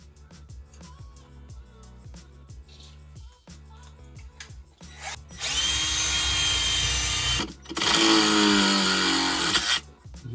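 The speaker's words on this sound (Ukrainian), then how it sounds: "Наступний етап робимо отвір під цю кнопку" A power drill whirs in two loud sustained bursts, drilling a hole for the button of a sink food waste disposer, starting after a stretch of quieter clicking and rattling handling noise.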